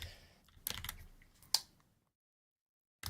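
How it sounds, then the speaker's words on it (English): A few short bursts of computer keyboard typing, clicky and close, in two clusters of keystrokes, then near silence and one final tap at the end. "you might be able to hear me type in"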